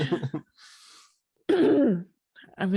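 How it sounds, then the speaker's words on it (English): A person clears their throat once, a short rough burst close to the mic, set between stretches of nearby conversational speech. "Eventually, I'll stop clearing my throat."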